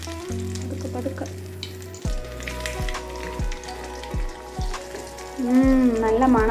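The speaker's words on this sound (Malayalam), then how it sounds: "ഇനി നമുക്ക് പാറ്റി അതിലേക്ക് ഇട്ട് കൊടുക്കാം. ഡീപ്പ് ഫ്രൈ ചെയ്യേണ്ട, ഷാലോ ഫ്രൈ ചെയ്തെടുത്താൽ മതി." A burger patty shallow-fries in a pan, sizzling steadily and fairly loud, with a series of evenly spaced clunks and scrapes from the pan and utensil and a louder sputter toward the end.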